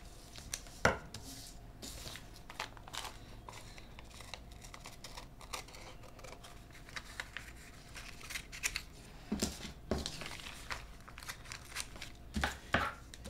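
Scissors trim a paper pattern for a darted lace balconette bra cup in a series of crisp snips and paper rustles, close and fairly quiet, with bursts of cutting near the end and no speech.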